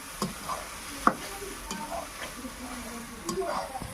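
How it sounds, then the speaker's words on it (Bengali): Spices sizzle in a pan with fried cauliflower and egg while a spoon stirs them, giving a steady low frying hiss broken by a few sharp scraping knocks against the pan. "ফুলকপি ভাজা হয়ে গেছে, এবার মশলা কষানো, ডিম ভাজা হয়ে গেছে, এবার মশলা কষিয়ে দেওয়া হবে ফুলকপি ডিম।"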